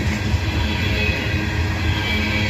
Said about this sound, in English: is a loaded coal train out of Pennsylvania.